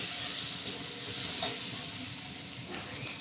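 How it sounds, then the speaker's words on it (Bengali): Moong dal and spices being stir-fried in a pan for a vegetarian moong dal with ash gourd: a dense, steady sizzle with soft spatula scrapes throughout, close and even, with no talking. "এবার ডালের সঙ্গে মশলাটা খুব ভালো করে কষিয়ে নেব।"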